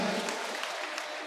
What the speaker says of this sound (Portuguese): Uma salva de palmas para ele, né, gente?